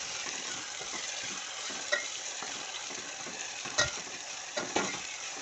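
Chopped tomatoes sizzle in a hot oil tempering for a simple Marathi dal, a soft steady frying hiss with a few sharp clicks of a spoon stirring the pan.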